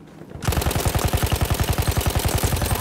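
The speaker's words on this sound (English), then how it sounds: "sniper shots" Rapid sniper gunfire in the video game Battlefield 1, a dense run of loud, evenly spaced shots cracking almost continuously for over two seconds after a brief quiet start.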